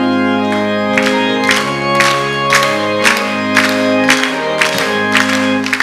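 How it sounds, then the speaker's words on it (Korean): A congregation at a Wednesday evening worship service claps in steady rhythm while singing a hymn together, with loud, evenly spaced claps over sustained voices and organ-like tones. "우리 다 같이 323장 박수를 치면서 힘있게 찬양하고"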